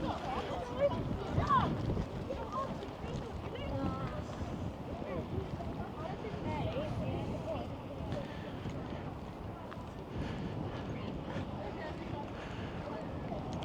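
Wind gusts across the seafront pier at Great Yarmouth's Britannia Pier, a rough, rumbling buffet against a chest-mounted microphone that rises and falls steadily under someone talking throughout.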